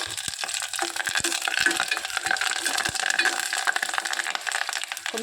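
Curry leaves, garlic, mustard seeds and cumin fry in hot oil over a low flame, giving a close, dense, steady sizzle with sharp crackles, pops and stirring clicks throughout.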